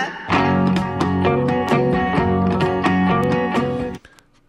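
A cappella rendition of a song, with a sustained, harmonically rich male voice filling the sound continuously for about four seconds before cutting off abruptly.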